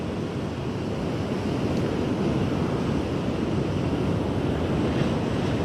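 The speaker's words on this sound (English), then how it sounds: "Nice wave there." Surf rolling in and breaking at St Mike's Beach on the KZN South Coast, a steady broad wash of waves mixed with wind rumbling on the microphone, with no voices.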